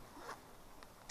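Quiet, close zipper on the corner of a 12x12 tent tarp, a few quick rasping pulls in short bursts against faint background hiss.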